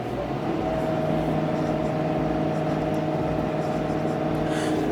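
Ford F-350 pickup towing about 35,000 lbs uphill at full throttle with manual shifting, its engine a loud, steady, close droning roar that holds without a break.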